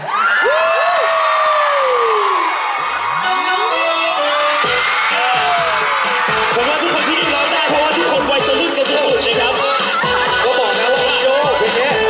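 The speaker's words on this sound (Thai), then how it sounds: "ขอเสียงกรี๊ดดังๆให้ซาวเขาเปิดเพลงหน่อยฮะ" Concert audience screams and cheers loudly and continuously, a dense wall of shrieks and whoops with rising and falling pitched squeals, close and full, while music and a voice emerge faintly beneath.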